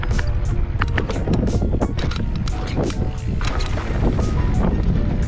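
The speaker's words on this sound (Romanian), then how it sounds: "O, bate vântul!" Steady wind roars loudly across the microphone while riding the Azuga Red Trail mountain bike route, a constant broadband rush with gusty buffeting throughout and no clear voices.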